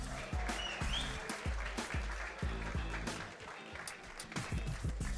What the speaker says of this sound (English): Give it applause for everybody